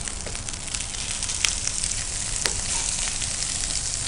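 Boneless chicken pieces fry in a pan with ginger garlic paste, onions and soy. A dense, loud sizzle holds steady and close throughout, broken by a couple of sharp crackles and pops.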